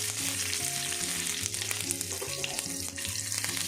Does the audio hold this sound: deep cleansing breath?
no